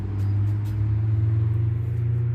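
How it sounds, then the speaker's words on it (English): Steady low road traffic rumble with a deep droning engine hum, heard alone at a constant level throughout. "sorry for the road noise."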